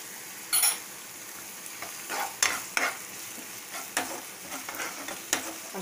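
Ginger garlic paste fries in a pan for Schezwan rice, a soft sizzle broken by repeated scraping stir strokes and clinks of utensil on metal, close by, with no talking.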